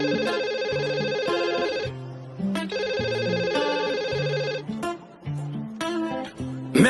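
A telephone ringtone plays within a song, its repeated electronic tones sounding over a steady bass line and beat and filling the whole stretch at moderate loudness.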